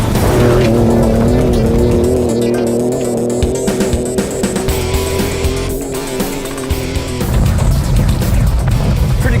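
A 2017 Ford Raptor truck drifts hard, its engine roaring loud and close while tires squeal in long sustained wails that hold steady, then the engine note drops away near the end.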